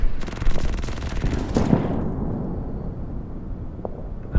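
Artillery fire and machine-gun bursts rattle in the Order of Battle strategy game during a Winter War battle at Viipuri, a dense close barrage that ends in a booming blast and a long rumbling decay.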